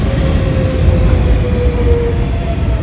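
Steady loud rumble of an elevated subway train passing close by, with a faint high squeal running through the roar.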